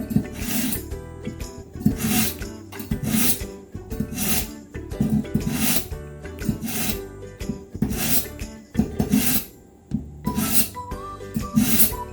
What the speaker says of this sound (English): My knife, a little knife sharpener here.